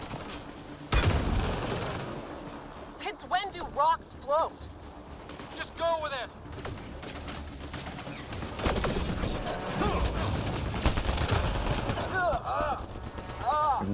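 Gunfire bursts from a sci-fi shooter game, Mass Effect Andromeda, crackle through a busy firefight, with repeated volleys, booms and whooshing effects throughout, while a player talks over much of the action.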